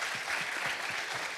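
Brief burst of audience clapping at a student ministry service, dense and steady throughout its short span.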